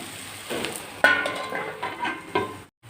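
Gongura meal maker curry frying in a pan, a soft steady sizzle with intermittent stirring scrapes and a few light utensil knocks, close and moderately loud.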